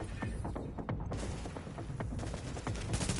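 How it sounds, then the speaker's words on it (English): Enemies fire guns in the video game The Division. Dense, continuous bursts of gunfire and rapid shots are heard close and loud throughout, with several sharp reports stacked together. "now they're all trying to shoot me and kill me"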